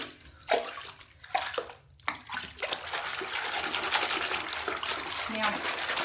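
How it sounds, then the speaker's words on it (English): Water is stirred and swished inside a container, starting with a few separate splashes and sloshes and then settling into a continuous close-up churning wash. "Let's mix our water up."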